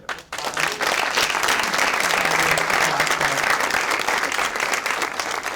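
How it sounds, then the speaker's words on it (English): An audience at a community evening with a conductor breaks into applause, a sharp onset after a brief pause followed by sustained, full clapping that stays loud to the end. "How about a round of applause?"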